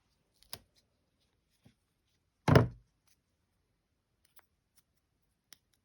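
Scissors snip once through paper while making a card, a single sharp close cut standing alone amid near silence and a few faint small taps.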